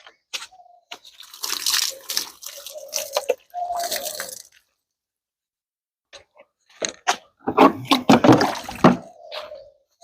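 Water poured onto rose plants during a morning garden-care session, heard as irregular splashing bursts with short pauses between, fairly close and moderately loud.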